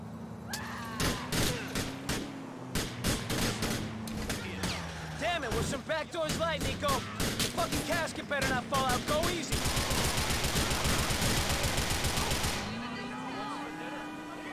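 Gunfire rings out in Grand Theft Auto IV, rapid bursts of shots rattling in quick succession, then a sustained automatic volley, loud and near, with a voice and other voices running under and between the shots.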